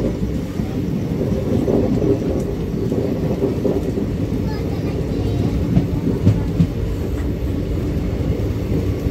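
The 13147 Uttarbanga Express from Kolkata to Darjeeling rolls past Narkeldanga near Sealdah, heard as a loud continuous low rumble with rattling and faint clanks throughout.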